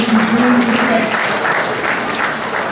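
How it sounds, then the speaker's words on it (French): Audience applauding the president at a women entrepreneurs' gathering, loud dense clapping filling the clip close by, with a brief voice heard at the start. "je voudrais remercier notre présidente et vous demander encore de l'applaudir"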